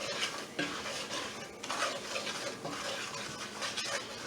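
Flour is stirred into hot fat for a gumbo roux, with a utensil scraping and clinking against the pot in steady, repeated strokes and a faint sizzle underneath, fairly quiet and close with no talking.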